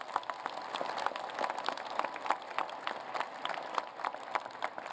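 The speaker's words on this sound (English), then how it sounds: "Give him a round of applause." Audience applause at an engineering commencement ceremony, steady scattered clapping from a large seated crowd, moderately distant and even throughout.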